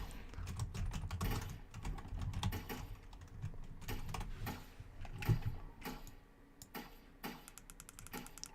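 Rapid, uneven clatter of keys on a computer keyboard during a game session, close and fairly quiet, with bursts of quick strokes and short pauses.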